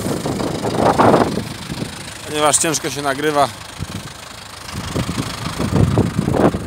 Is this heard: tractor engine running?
yes